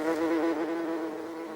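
A honeybee buzzes steadily and close, a continuous droning hum with no other sounds.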